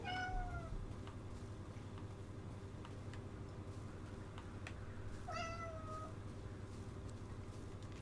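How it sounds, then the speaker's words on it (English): A house cat meows twice, quite faint and a few seconds apart, over steady low background hum from a game with a car or train rumble. "Are you making those meowing sounds?"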